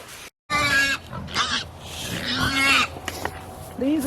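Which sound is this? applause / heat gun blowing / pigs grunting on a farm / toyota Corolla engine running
pigs grunting on a farm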